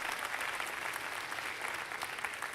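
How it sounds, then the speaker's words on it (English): Full, sustained applause for performers at a community awards gala, a large audience clapping steadily and loudly throughout with no voices on top. "Let's give all of our performers a great big round of applause tonight."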